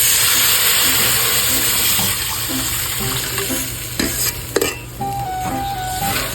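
Liquid is poured into a pan of frying pork for bagnet, a loud steady sizzle with bubbling and a few clinks of a utensil against the pan.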